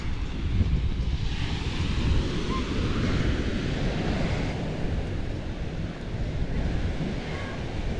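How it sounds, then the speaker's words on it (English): Sea waves at Fanabe beach in Tenerife make a steady, loud roar and wash of surf with wind buffeting the microphone, continuous throughout with no voices. "So check out the sea of Fanabe."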